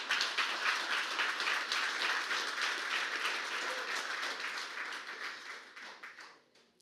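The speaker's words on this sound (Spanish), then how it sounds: "Aplauda, grita, haz algo." A church congregation claps enthusiastically at a service, a full, steady round of applause from many people that carries for several seconds and then fades out toward the end.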